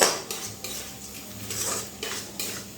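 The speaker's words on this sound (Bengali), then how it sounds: "এবারে মুসুরির ডালগুলো এই মশলার সঙ্গে 1 মিনিট মতো একটু ভেজে নিতে হবে।" Red lentils being fried with spices in a pan, metal utensil scraping and clinking against the pan in bursts of stirring over a low sizzle.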